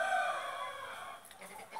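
A rooster crows from a backyard chicken flock, the drawn-out tail of the call holding steady and slowly falling, clear and fairly close, fading into a faint wavering end.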